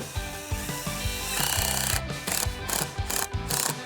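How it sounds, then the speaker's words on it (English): Screws are driven into a wooden raised garden bed, with a loud, close, continuous whirring drive that breaks into quick repeated bursts toward the end. "I am just eyeballing this to make it perfect and screwing it right on."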